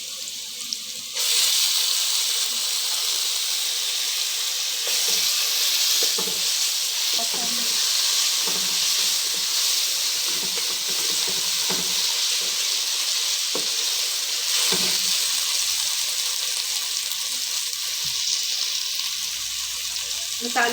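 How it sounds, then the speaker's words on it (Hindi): Garlic and ginger sizzle steadily in hot oil, a loud, continuous hiss of frying that fills the whole stretch after a brief quiet start, with faint stirring scrapes now and then. "इसमें लहसुन अदरक शामिल करेंगे।"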